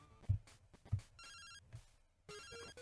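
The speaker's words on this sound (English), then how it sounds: "Phone call from Professor Elm." Electronic phone ringtone from Pokémon Gold, an incoming call on the in-game phone, chiming in repeated bursts of bright tones over quieter game sounds, with no talking.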